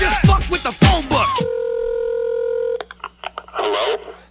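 Telephone keypad dialing a number, a steady DTMF tone held for over a second followed by a quick series of short beeps, heard just after loud voices.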